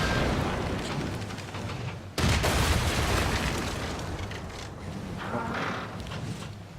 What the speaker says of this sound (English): Here, this destroyer is going to bombard the frigate.